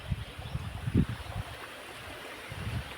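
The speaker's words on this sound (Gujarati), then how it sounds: "પાણી અવાજ બી આવે છે જુઓ આવે છે ને" Water flowing in a village setting, faint and low: a soft rushing murmur with a few brief louder surges, mixed with light wind noise and no speech.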